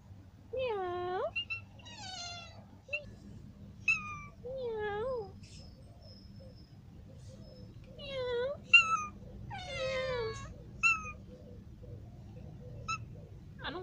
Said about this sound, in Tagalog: Hala, dumadami yung pusa ko.